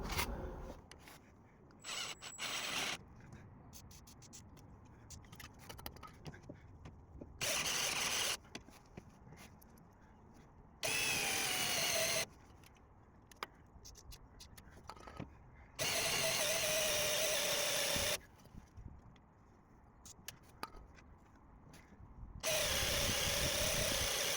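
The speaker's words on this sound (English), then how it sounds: "So drilling out anti-roll bar bushes, firstly with a 10mm countersink" A power drill with a 10mm countersink bit drills out anti-roll bar bushes on a Vauxhall Corsa D, running in several loud bursts separated by quieter pauses with faint rustling and handling noises.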